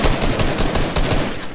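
Rapid bursts of Fortnite gunfire crack loud and close, shot after shot in a dense, continuous volley with no talking over it.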